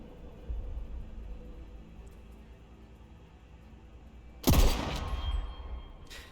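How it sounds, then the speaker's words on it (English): Loud gun firing in the video game Deathloop, a single heavy blast after several seconds of quiet ambience, followed by a ringing, noisy tail that decays slowly. "I'll just go ahead and use my loud gun"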